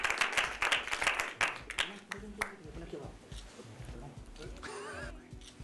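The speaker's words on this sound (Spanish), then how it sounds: "Un aplauso" A short burst of applause from a crowd at the unveiling of an event poster. Sharp clapping is heard at the start, then it thins out under voices and background chatter.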